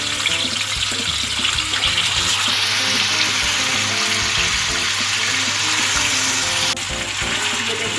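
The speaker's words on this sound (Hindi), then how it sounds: "ऑयल गरम हो गया है, अब मैं इसमें चिकन फ्राई करूँगी।" Chicken pieces fry in hot oil for biryani, giving a loud, continuous close sizzle with bubbling and crackle throughout.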